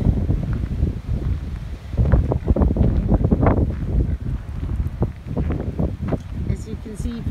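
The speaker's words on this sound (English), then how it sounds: "Very, very windy day today." Strong wind gusts through trees on a very windy day in rural central Portugal, roaring and buffeting the microphone in uneven surges over several seconds, loud and close.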